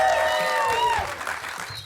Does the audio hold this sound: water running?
no